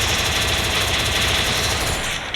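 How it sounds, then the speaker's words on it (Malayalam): Rapid automatic gunfire in the Free Fire video game rattles in a dense, continuous burst that stays loud for about two seconds before cutting off, with no speech. "ഞാൻ വെടി വെക്കുന്നുണ്ട്."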